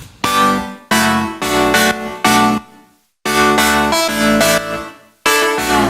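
Synth chords play in clipped bursts separated by brief silences, dry with no reverb tail, the notes stopping abruptly.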